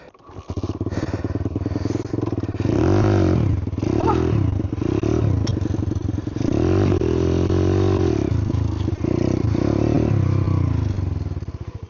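A dirt bike engine runs loud and close, revving and clattering roughly with rapid firing pulses, then cuts out near the end when stopped with the kill switch.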